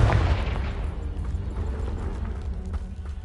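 A Confringo blast spell in Hogwarts Legacy bursts through a pile of debris with a loud boom, followed by a lingering low rumble and scattered crumbling, no speech.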